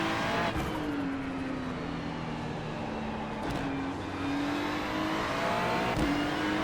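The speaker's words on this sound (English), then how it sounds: "The car does want to step out on acceleration." A GT3 race car at the Algarve circuit, in a racing game, accelerates hard with a loud, continuous engine roar that climbs in pitch through the gears, with brief shift breaks and no talk.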